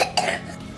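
A child coughs twice in quick succession after eating ice, short sharp bursts close by with a brief rasp trailing off.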